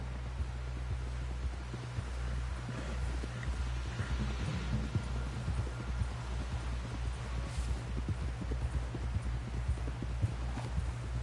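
Horse hooves clip-clop in a steady, rhythmic gait in the Red Dead Redemption 2 video game, the evenly spaced beats running the whole way over a low constant hum.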